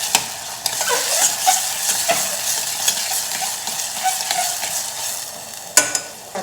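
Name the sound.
sautéing tomatoes with ginger garlic paste and chilli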